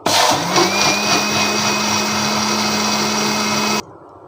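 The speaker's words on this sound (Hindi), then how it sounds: "इसको हम दोबारा थोड़ा सा ब्लेंड करेंगे।" A kitchen blender whirs loud and steady as it blends a raw mango drink, keri ka sharbat, holding one even motor whine for nearly four seconds before cutting off abruptly.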